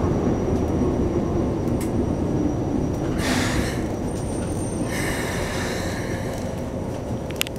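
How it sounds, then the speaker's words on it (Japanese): A Keikyu New 1000 series eight-car renewed train makes an emergency stop on the Keikyu Main Line near Kanagawa-Shinmachi, with continuous rumbling running noise inside the car and bursts of hissing, screeching brake sound. "前方の踏切道におきまして、異常知らせライトを認めましたので、急ブレーキを使用いたしました。"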